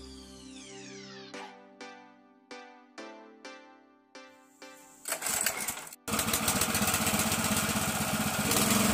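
A Kisan Craft tractor's petrol engine is pull-started with about six sharp, evenly spaced pulls. It then catches, sputters and settles into a loud, continuous idle close by.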